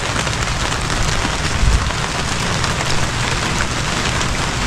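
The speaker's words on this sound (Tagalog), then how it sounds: "Rain, rain, rain." Rain falls steadily on a farm in the Philippines, a loud dense patter drumming on surfaces with a single low thump midway, no voices.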